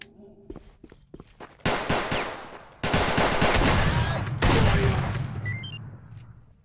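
Double-barrel shotgun fire in a Ukrainian video game: loud close blasts in quick bursts, the first sharp and brief, then two dense, sustained volleys of rapid shots that ring out and decay, with no talking.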